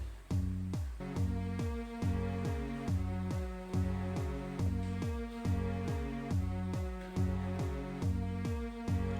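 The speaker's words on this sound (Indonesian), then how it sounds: "Nah sekarang coba kita tambah suling." A steady kick-and-bass groove with a flute (suling) melodic line layered on top, repeating in a regular rhythm for several bars, with no one talking.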